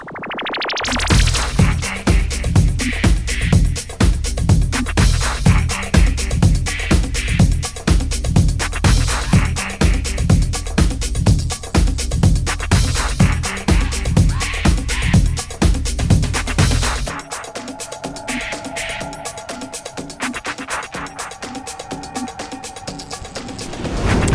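Loud house music remix pumps along with a driving four-on-the-floor kick, then drops into a thinner breakdown section near the end.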